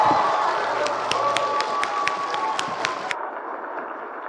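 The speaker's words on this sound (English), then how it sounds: "let's give a really big round of applause to the junior high sound effects and sound stations" Audience applause and cheering fill a hall at a symphony orchestra Christmas pops concert, a dense wash of clapping with scattered whoops, loud and steady before easing slightly near the end.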